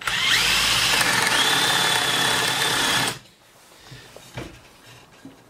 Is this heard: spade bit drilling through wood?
yes